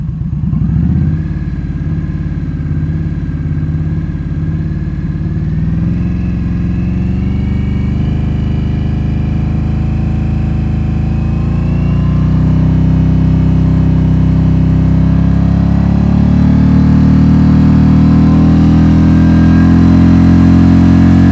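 An Indian Scout motorcycle fitted with an RPW Axe quiet baffle exhaust rumbles from idle and is revved upward in steady steps, the deep engine note climbing and growing louder close by.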